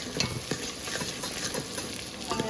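Food is stirred in a pan over a steady sizzle of frying, with a spoon scraping in regular strokes about every half second, close and loud, and no talking.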